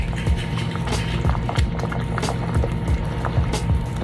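Jamaican goat head soup with cow skin gets stirred in a pot, making repeated wet sloshing and scraping strokes at a steady rhythm over a low simmering bubble.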